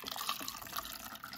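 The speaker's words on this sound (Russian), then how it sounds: "И сейчас будем заливать водой" Room-temperature water is poured from a mug into a surprise-egg toy, a soft, faint trickle and splash that runs steadily for a moment, close by and quiet.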